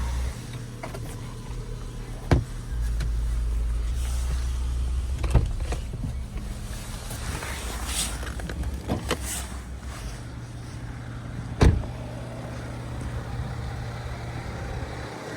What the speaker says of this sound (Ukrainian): шторка складається.